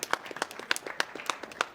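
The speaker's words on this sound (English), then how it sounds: "a big round of applause for Ecaterina" Sparse, scattered hand claps as a small audience applauds a Romanian goalie being introduced at the women's doubles final of an ITSF table football world event, thin and uneven rather than a full ovation.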